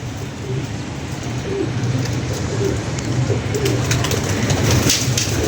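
Pigeons coo softly in repeated low calls amid a dense, noisy background of many birds, growing slightly louder toward the end.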